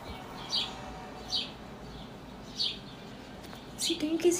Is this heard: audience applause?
no